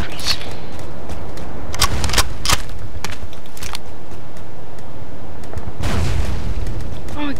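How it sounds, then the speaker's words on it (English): Gunshots blast at trees in the Ace of Spades video game, a scattered series of sharp, loud cracks with booming bursts amid constant game noise, close and heavy. "Shooting down all the trees."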